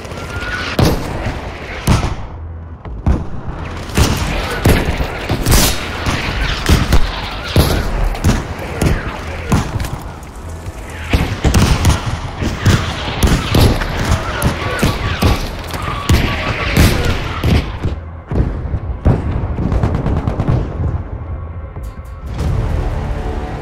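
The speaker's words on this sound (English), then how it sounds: "We need an artillery barrage right away." Heavy artillery barrage in Battlefield 5, a long run of loud booming explosions and rattling gunfire, dense and irregular, some blasts close and sharp and others rumbling further off.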